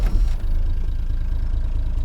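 A Perkins diesel swapped into a 1986 Ford F150 rumbles at a low, even idle just after starting, a close, steady, throbbing rhythm with a brief clatter at the start.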